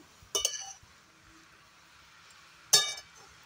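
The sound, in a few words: stirring cabbage in a pan while frying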